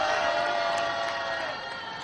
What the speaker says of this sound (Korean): 함성과 박수 쳐주세요.